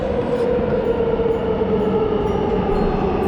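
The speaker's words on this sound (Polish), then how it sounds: "Coś czuję, że za mną jest pociąg świąteczny." An Intercity train rumbles steadily nearby in Warsaw, a continuous low roar of rail cars rolling past with no voices.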